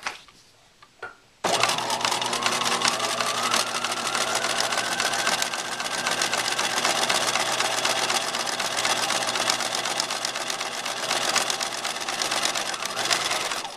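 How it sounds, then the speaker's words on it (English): A Bernina 1008 sewing machine stitches the second half of a buttonhole. It starts after a short pause and then runs fast, close and steady, with an even mechanical chatter that continues to the end. "Number 4 is going to sew the other half of the buttonhole."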